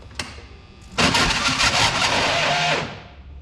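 A faint click, then a farm engine that is acting up cranks and catches with a loud rough roar, running unevenly for a couple of seconds before cutting off abruptly.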